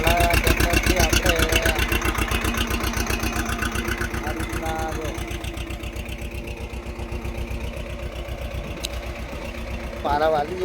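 A small tractor making ridges in a field, its engine chugging steadily and loudly with a strong regular low pulse throughout, someone speaking briefly over it.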